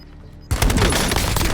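Sudden burst of rapid automatic gunfire in the Warzone video game erupts after a quiet moment, loud and sustained with dense overlapping shots.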